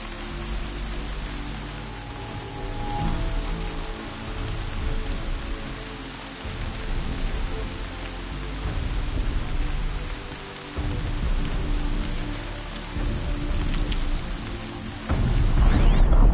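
Steady rain falls across an outdoor landscape in Horizon Zero Dawn on PS4, a continuous hiss with gentle swells in intensity and a brief louder burst near the end, with no voices.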